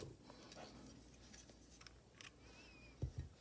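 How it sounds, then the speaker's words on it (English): Scissors snip through crochet yarn in two quick cuts near the end, close and fairly loud against a quiet room. "I'm going to cut my yarn."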